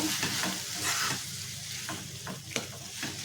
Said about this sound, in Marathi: गरम आहे आपले टोमॅटो त्याच्यातच फक्त मिक्स करून घ्यायचे